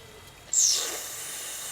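Sudden sharp hiss of a steam injector on a large model Showman's steam engine, starting abruptly after quiet running and continuing as a steady, close, fairly loud rush of steam.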